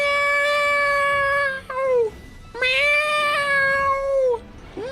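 A human voice imitates a cat meowing, drawn-out, nasal, tonal meows repeated twice and loud up close, each sliding downward at the end.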